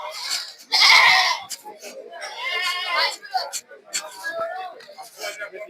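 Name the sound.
goats bleating at cattle market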